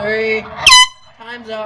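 A single loud air horn blast, about a quarter second long, cuts in during a prank phone call to a burger restaurant, with talking just before and after it.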